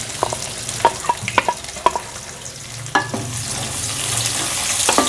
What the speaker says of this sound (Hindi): इसको उस वक्त तक फ्राई करेंगे जब इसका कलर चेंज होना शुरू हो जाएगा